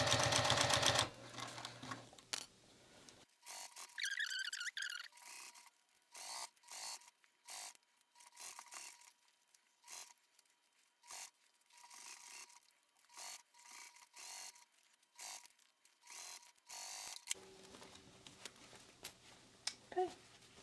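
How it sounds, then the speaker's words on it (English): A sewing machine stitches binding onto a small wristlet, heard as faint bursts of needle clatter broken by short pauses, with a brief voice at the very start. "So I'm going to press this gusset out of the way and sew right at that line, right at the edge of the binding."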